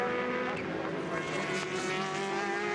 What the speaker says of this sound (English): Di Grassi closing in on the Porsche driver Jani down the inside at the Dunlop hairpin.